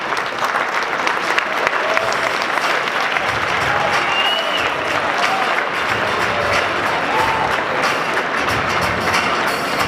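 An audience at an evening violence-prevention panel event claps loudly and continuously to welcome the panel hosts, with crowd murmur mixed into the steady applause.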